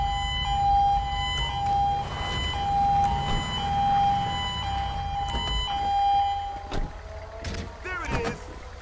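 An ambulance siren in the police game LSPDFR on GTA V wails steadily through a layered in-game soundscape with engine rumble, followed near the end by short chirping bursts and clatter, while a voice speaks over it.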